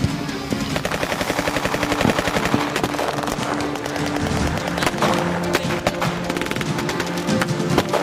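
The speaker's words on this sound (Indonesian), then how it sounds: "kepala pasukannya itu Ananda memerintah pasukannya untuk menembak para warga." Rapid, sustained bursts of sound-effect gunfire, machine-gun-like and loud, fill a school theatre performance staged as a poetry dramatization, with no speech over them.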